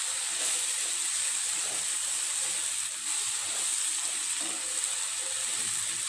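Sliced bitter gourd sautés in a pan with turmeric, chili powder and salt, giving a continuous soft sizzle and hiss at an even level with no talking.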